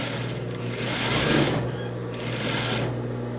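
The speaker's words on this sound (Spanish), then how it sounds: "Vamos a pasar la costura recta sobre el cierre para que quede más seguro." A sewing machine runs a straight seam over a skirt zipper, a close, loud, steady mechanical whirring that briefly slows and then picks up again in two bursts.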